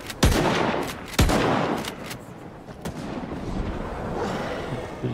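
Gunfire in Stalker 2 in a swamp, two loud close shots each ringing out with a booming tail, followed by a rumbling ambience with fainter distant cracks.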